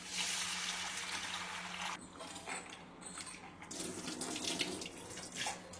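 Tap water runs steadily into a vessel while moong dal and rice are washed, a close splashing stream with shifting texture as the grains are stirred and rinsed.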